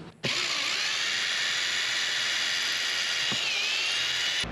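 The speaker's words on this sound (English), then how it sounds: "so we're gonna have to drill some holes." A power drill whirs at a steady high pitch for several seconds, starting abruptly and cutting off at the end, close by with no talking.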